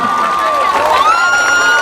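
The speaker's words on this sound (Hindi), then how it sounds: "जोरदार तालियों से स्वागत करें हम सब माननीय मुख्यमंत्री जी का" A large outdoor crowd cheers and shouts at Gandhi Maidan on Bihar Diwas, greeting Bihar's chief minister Nitish Kumar with a steady, loud roar of voices and whoops, with whistle-like tones rising over it.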